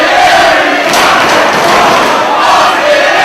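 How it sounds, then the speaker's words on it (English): A loud pro wrestling arena crowd roars and cheers continuously during a title match, a dense, sustained wall of voices rising in waves with no break. "The crowd trying to urge Aries on"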